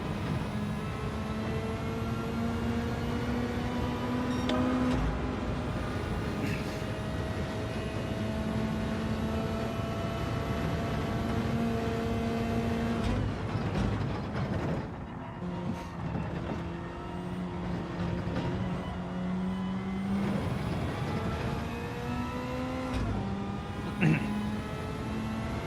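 A car engine revving in the video game Gran Turismo 7, rising and falling pitch sweeps through gear changes over a continuous loud drone, with a brief dip midway.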